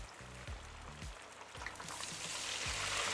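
Chopped medium-sized onion dropped into hot oil already tempered with mustard seeds, cumin and asafoetida, giving a steady sizzle and frying hiss that grows louder over a few seconds, with a few soft thuds, no voices.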